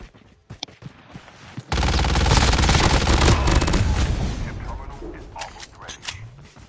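Sustained rapid automatic gunfire in a Call of Duty Mobile battle royale match, loud and close, a dense rattling burst lasting several seconds that then tapers off, with a few sharper shots before and after.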